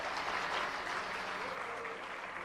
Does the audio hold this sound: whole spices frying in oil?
no